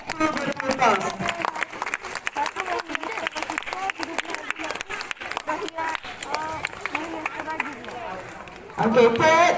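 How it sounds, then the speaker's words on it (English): School assembly audience clapping for pupils, a dense steady patter of many hands mixed with chatter and voices, swelling louder near the end. "please give a big clap to the pupils"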